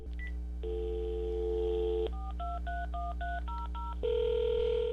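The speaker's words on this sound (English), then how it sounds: "So we tried calling the number ourselves" A telephone number is dialed on a phone's keypad: a steady dial tone, then a quick run of short, clear DTMF beeps in an uneven rhythm, then a steady tone again. The tones are close and distinct with no voices.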